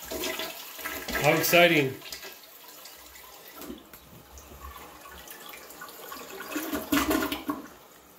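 Toilet flushing after its handle lever has been replaced, a close gushing rush of water that settles into a softer trickle and refill, with a short spoken remark over the start.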